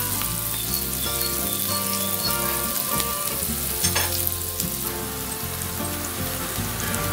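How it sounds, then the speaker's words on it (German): Onions and morel mushrooms sizzle and fry in a pan on a gas grill, with a steady crackling hiss, occasional stirring scrapes and no talk. "werden wir hier in unserer Pfanne, wo die Zwiebelchen schon ein bisschen braune Farbe haben, jetzt die Morchel zugeben"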